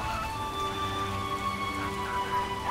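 Steady rain falling in The Witcher video game, a dense soft patter of drops over a constant background hiss, with no voices present.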